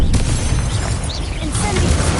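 Spell blasts in Hogwarts Legacy: a burst of booming explosive impacts, loud and continuous, with a dense low rumble and crackling debris over the whole stretch.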